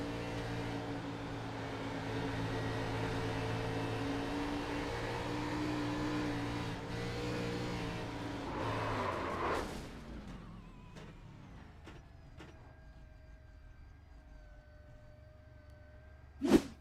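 Stock car engine in a racing video game set at Texas Motor Speedway, droning steadily and loud for about nine seconds before fading to a quieter hum, with a sharp burst near the end.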